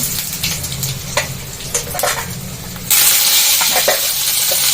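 Cumin, mustard seeds and dried red chillies go into hot oil for tempering, giving scattered pops and crackles that break into a loud, continuous sizzle partway through, close and with no talk.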